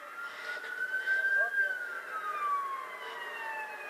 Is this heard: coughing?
no